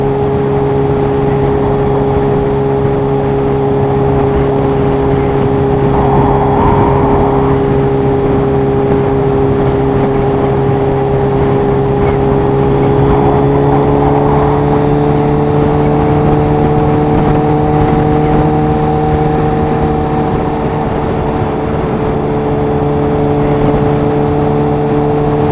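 A Kawasaki H2 motorcycle engine runs at about 4,000 rpm on a test drive, a loud, continuous tonal drone with stacked engine harmonics that shift slightly in pitch, heard close and alone throughout.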